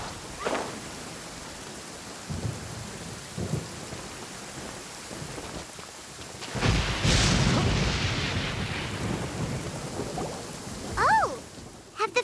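Stormy weather in the Genshin Impact video game, with steady rain hiss and deep rumbling thunder swelling loudly midway, followed by a brief sweeping tonal effect near the end.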